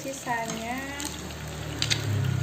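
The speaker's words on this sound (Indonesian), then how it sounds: "Aku cuman menggoreng beberapa ya teman-teman ini." Tofu meatballs mixed with tuna and beef fry in hot oil with a steady, close sizzle and crackle, while someone talks over the frying.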